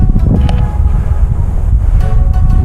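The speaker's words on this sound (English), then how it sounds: "it's windy here too" Wind blowing across an open school field, a steady low rumble buffeting the microphone with gusty swells, loud and close, with no talk.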